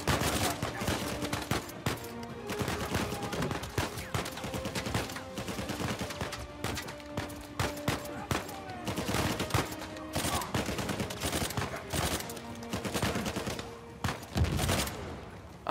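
Gunfire in Uncharted 4: loud bursts of shots and rapid automatic fire crackle repeatedly across the stretch, with brief pauses between volleys and sustained tones in the background.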